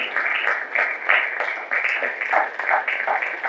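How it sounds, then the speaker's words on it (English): Applause from a conference audience at a young professionals leadership forum, steady and fairly close, rising and falling in waves for several seconds with a few voices mixed in. "Please keep the applause going"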